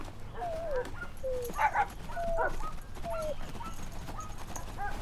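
A dog whimpers and yelps in a string of short, high whines and a few sharp barks, fairly close, with no clear talk over it.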